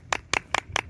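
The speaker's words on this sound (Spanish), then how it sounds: "Entonces su padre se merece un gran aplauso." A few people clapping hands in a brief Spanish-language interview, five sharp, evenly spaced claps heard close and alone.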